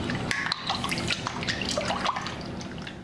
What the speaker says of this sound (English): And whisk together.